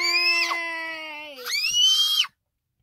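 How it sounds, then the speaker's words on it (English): A young boy screams two long, piercing, high-pitched shrieks close up. The second rises sharply and cuts off abruptly, followed by silence. "Stop screaming"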